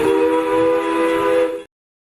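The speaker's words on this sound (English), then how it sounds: "That's a train, though." A train whistle or horn sounds as a loud, steady, sustained tone for about a second and a half, then cuts off abruptly into silence.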